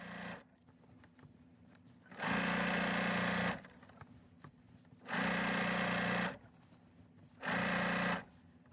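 A sewing machine quilts a whole-cloth quilt top in three separate bursts of loud, steady stitching, each about a second long. Quiet pauses fall between the bursts.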